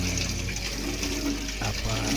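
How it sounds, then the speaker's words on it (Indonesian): Tap water runs steadily while mushrooms are washed one by one under the faucet, a continuous close splashing with a voice talking over it. "Kita cuci bersih satu persatu ya, kita di bawah ini keran ini kita bersihkan ya."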